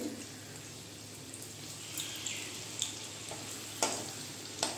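Onion pakoras frying slowly in oil over reduced heat: a soft, continuous sizzling hiss, close by, with a few light scraping clicks of a spoon near the end.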